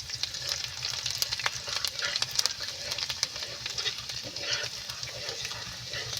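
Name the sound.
stirring garlic and spices frying in a pan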